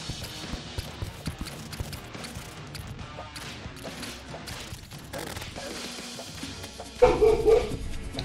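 A dog barks in Terraria Journey's End on Master Mode in the desert caverns, a short burst near the end that rises above dense, busy game music and effects.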